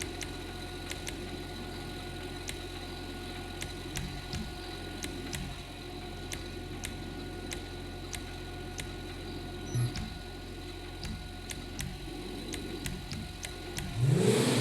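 A customized sports car in the GTA 5 video game, fitted with upgraded engine and exhaust, idling with a steady mid-pitched engine drone and faint regular ticking, swelling into a brief louder rev at the end; no talking.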